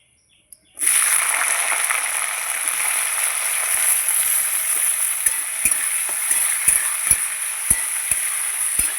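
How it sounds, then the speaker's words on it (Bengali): Flat beans hit hot oil tempered with dried red chilies, bursting into a loud, continuous sizzle, with soft rhythmic spatula knocks against the pan as they fry. "সিমটা একটু ভেজে নেব"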